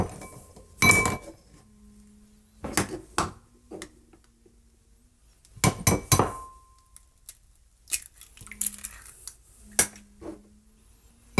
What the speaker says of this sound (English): Man, am I a pro at cracking eggs or what?